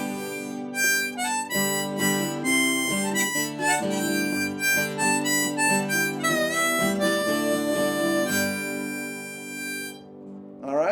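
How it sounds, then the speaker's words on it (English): A G diatonic harmonica plays a bright, bending melodic riff in first position over steadily strummed acoustic guitar chords. Both instruments are close and continuous, with no talking. "with the notes on the harmonica and strumming some simple chords on the guitar"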